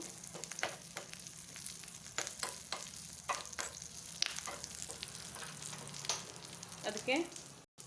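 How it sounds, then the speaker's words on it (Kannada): Greens and ingredients for tambuli sizzle and fry in a pan, with frequent scraping stirs and clinks from a spoon, close and moderately loud, and no voices. "ಹಾಕ್ಕೊಂಡು ಹುರ್ಕೊಳ್ಳಿ. ಚೆನ್ನಾಗಿ ಹುರ್ಕೊಂಡು"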